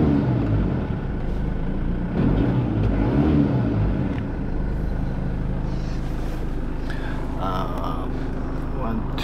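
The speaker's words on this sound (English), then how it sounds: "Engine sounds okay." A low, steady 2.8-litre turbodiesel engine of a Mitsubishi Delica Space Gear idles and rumbles throughout, with muffled voices talking nearby over the drone.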